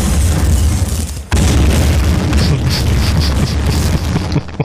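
Red crates full of explosives blowing up in Max Payne 2: loud, heavy booms with a sharp cut then a renewed blast and rumbling debris, close and dominant.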